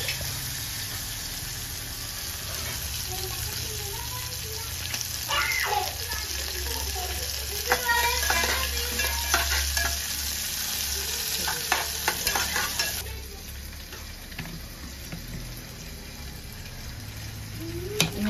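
Tomatoes and tamarind cooking in plenty of oil in a pan, a steady frying hiss with scattered stirring scrapes and clinks, fairly close, continuing throughout with a slight drop in level near the end.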